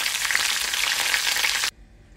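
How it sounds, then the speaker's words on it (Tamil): Mustard seeds and urad dal spluttering in hot oil for a spicy garlic-chilli chutney, giving a dense, steady crackling sizzle close by that stops abruptly near the end, with no voices. "இப்போ கடுகு உளுத்தம் பருப்பு நல்லா பொரிஞ்சிருச்சு"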